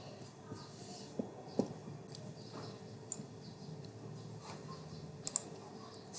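Keys on a computer keyboard are tapped in quiet, scattered bursts with a few sharper presses like an enter key, while a user works through an Ubuntu installation in a hushed room.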